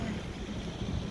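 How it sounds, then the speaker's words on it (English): Wind gusts buffet the microphone during a morning tram ride in Switzerland, producing a dense, continuous low rumble and roar over a short moment. "There's a breeze of wind coming from me."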